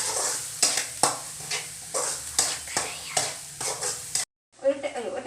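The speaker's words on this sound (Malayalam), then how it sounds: "എല്ലാ പൊടികളും ചേർത്തിട്ടൊരു കുറച്ച് നേരം ഒന്ന്" Ground spices and masala sizzle in a hot pan for a breakfast dish while a spoon scrapes and stirs in regular strokes, loud and close, before a brief break near the end.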